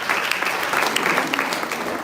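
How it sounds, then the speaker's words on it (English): An audience at a poetry prize event claps steadily to welcome a speaker to the stage. The applause is dense and sustained, with a few sharper individual claps standing out. "Please clap as well."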